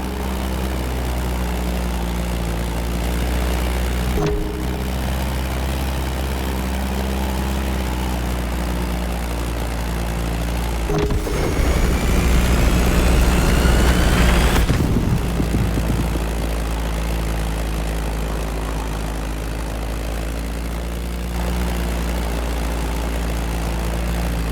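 A Beechcraft Staggerwing propeller plane in The Crew Motorfest drones with a steady, close engine hum, swelling louder in the middle before settling back to an even tone, with no talking.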